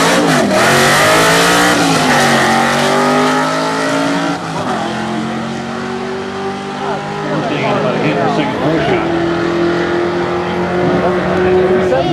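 White 1999 Ford Mustang GT with a 4.6 liter engine drag racing at Bradenton Motorsports Park, its loud engine revving hard through rising gear pulls close by, with a commentator talking over it throughout.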